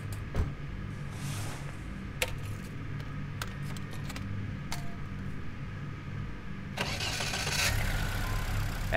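A car engine starts in the video game Infra, with a rough ignition crank and low mechanical rumble, preceded by sharp clicks and a jangle of keys, then the motor settles into a steady mid-pitched idle.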